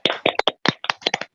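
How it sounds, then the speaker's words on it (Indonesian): Children clapping hands in a classroom, about nine quick irregular claps in a short burst, close and crisp. "Tepuk tangan."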